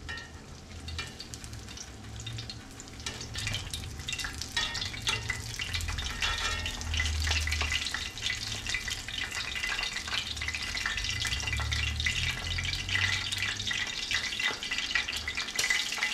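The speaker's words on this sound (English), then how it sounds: "when we fry them, the bones will soften up" Beer-battered smelt fish fillets frying in hot oil, giving a steady, dense sizzle and crackle that continues without a break, close and moderately quiet, with no talking.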